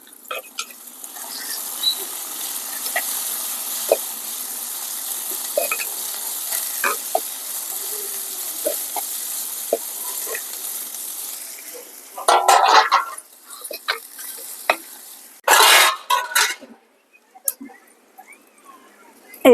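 Tempering spices hiss and sizzle steadily in hot oil for a vadiyam and amaranth-leaf dal, a constant crackle for several seconds, followed by sharp clatters and louder bursts of frying near the end.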